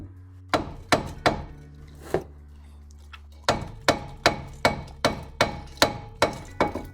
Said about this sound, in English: I can just tap the drum a few times with my big hammer